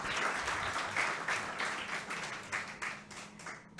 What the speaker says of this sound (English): Let's join together and give them a big round of applause for their hard work and creativity.